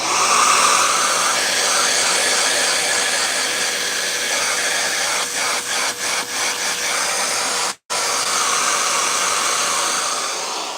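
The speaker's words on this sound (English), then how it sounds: "the suction coming through this is louder than my actual vacuum." Loud, steady dust extraction suction roars close by at a woodworking tool, with a brief sputter of fluttering pulses and a momentary cutout before it resumes.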